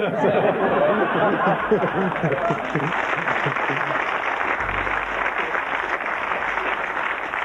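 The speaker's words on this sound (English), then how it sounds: "as we saw from that cheering crowd" A large crowd in Philadelphia cheers and applauds through a concert night, a dense, steady roar of many voices that holds at full level without a break.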